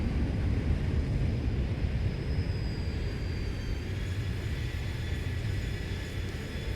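Steady airplane engine drone heard from outside the aircraft, a broad constant roar with a faint high whine above it, alone and without talk.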